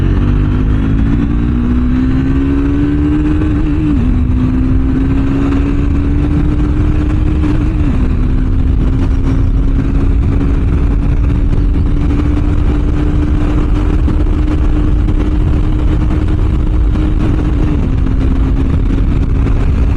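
Triumph Speed 400 motorcycle riding at speed, its engine holding a steady loud drone with brief pitch dips at gear changes, heavy wind rush throughout and no talk.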